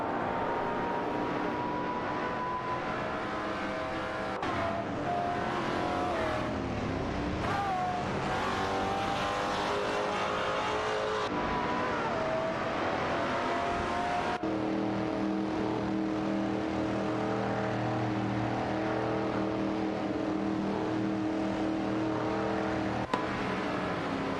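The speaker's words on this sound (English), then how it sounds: "Racing car dashing away, enjoy." AI-driven race cars in a racing video game roar past one after another, their engine whines rising and falling as they speed by, loud and continuous with no talking.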